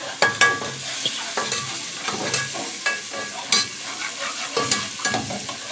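Soaked lentils are stirred in a hot pan, a spoon scraping and clacking in irregular strokes over a steady, close sizzle, with no voices.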